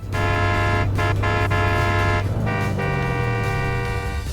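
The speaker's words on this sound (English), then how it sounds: "Press the horn, and you'll hear an entirely custom sound ripped straight from the game." A custom car horn from the Cyberpunk 2077 car in Fortnite blares steadily for about four seconds, loud and close, with a brief dip midway and a slight pitch slide near the end, and no talking over it.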